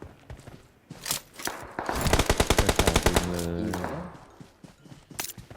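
A sustained burst of rapid automatic fire in PUBG Mobile, framed by scattered single shots and footsteps, loud and close.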